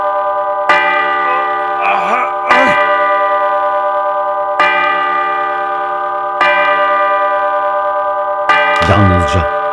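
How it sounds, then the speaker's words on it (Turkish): Church bells toll in a slow, regular rhythm in an animated comic with voice acting, each strike ringing out with long resonant tones, while brief voices cut in between strikes. "Çanlar!"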